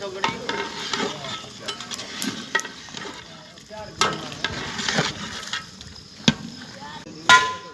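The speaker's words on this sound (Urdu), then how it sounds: "فی الحال ان ساری دیگوں میں گوشت پکایا جا رہا ہے۔" Meat cooking in several large cauldrons for a village charity feast, giving a busy sizzling bubble with stirring scrapes and clanks at varied distances, faint voices in the background.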